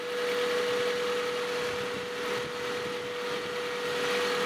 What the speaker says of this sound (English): Hear that engine speed go down just a little bit as it starts to run in there.